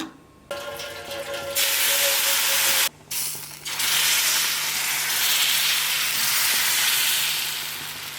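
Rava dosa batter sizzles on a hot tawa with a loud, continuous hiss and crackle. The sizzle breaks off briefly once, then surges back and keeps hissing steadily.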